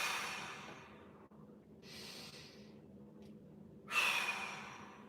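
A person draws a big, audible breath during a strength and mobility exercise, with breathy bursts recurring and the loudest near the end, heard alone without talk.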